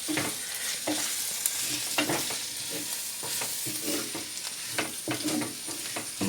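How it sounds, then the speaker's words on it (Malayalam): Fish curry masala for a Kerala village-style fish curry being stirred in a pan, a steady sizzle broken by repeated scraping strokes of a spoon at an irregular rhythm, close up with no talking. "നല്ലോണം ഇളകട്ടെ"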